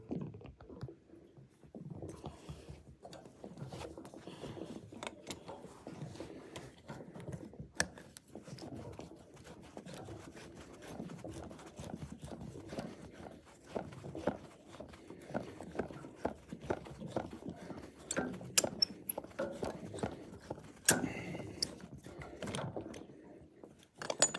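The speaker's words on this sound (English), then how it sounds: "just literally just scratching off the paintwork with my grips" Hand grips scrape paintwork off a creased pipe during a service call, making a steady, close, gritty rasping of irregular strokes that runs throughout with occasional sharper scratches.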